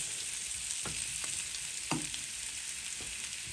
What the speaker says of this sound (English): sauteing these a little bit more